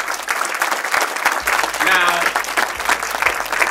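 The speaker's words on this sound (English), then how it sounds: "Give yourselves a round of applause." An audience at a community event applauds loudly, with continuous clapping filling the whole stretch and some cheering voices mixed in.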